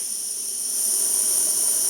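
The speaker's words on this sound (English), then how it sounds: "Now you can light your stove." A butane camping stove fitted with a UC jet valve and UC jet burns with a steady, high-pitched hiss and a soft roar beneath it, continuous and close with no talking.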